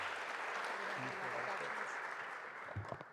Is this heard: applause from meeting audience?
yes